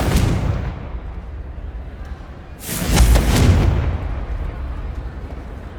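A Confringo blasting spell explodes in Hogwarts Legacy, a loud booming burst midway that rolls on and fades over a low rumbling backdrop, with a faint spoken voice around it.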